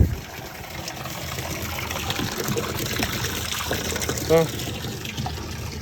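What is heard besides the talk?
water filling a tank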